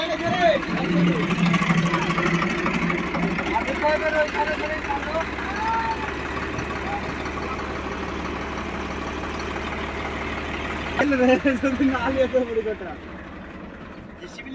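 A tractor engine labors steadily in a continuous low drone while trying to pull up an overturned trolley inside a home compound, a louder surge near the end, with people talking throughout.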